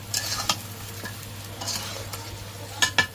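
Duck meat being stirred in a pan: scraping stirs in short bursts over a soft steady sizzle, close and moderately loud, with no talking.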